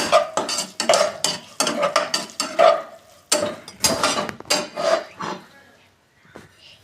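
Spatula stirring soya chunks with curry leaves in a pan, a series of close, rhythmic scrapes and clinks in bursts with short pauses, fading to a few soft touches at the end.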